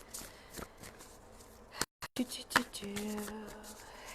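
Akashic Tarot cards shuffled by hand, a soft papery riffle and rustle with a few brief taps, fairly quiet, with a low tonal hum creeping in near the end.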